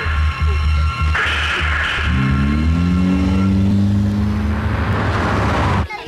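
A car revving and pulling away, the engine note rising steadily as it accelerates, loud and close, then cutting off abruptly near the end.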